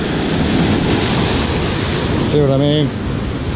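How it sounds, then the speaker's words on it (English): Ocean waves roll in on a sandy shore in a steady broadband roar with wind buffeting the microphone, and someone speaks briefly near the end. "Just had to dodge the waves as they came in over here."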